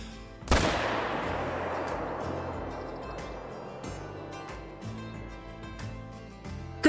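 A single loud hunting rifle shot cracks out in the Call of the Wild hunting game on the Rancho del Arroyo reserve, its long echoing tail fading slowly over a low, steady in-game ambience.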